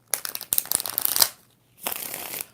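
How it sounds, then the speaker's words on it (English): Tarot cards being shuffled by hand in two close, crisp bursts of riffling and flicking, the first about a second long and the second following after a short pause. "4 shuffles."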